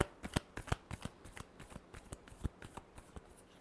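Tarot cards are shuffled by hand in a steady run of quick, crisp riffling flicks, close and fairly quiet, with no one speaking.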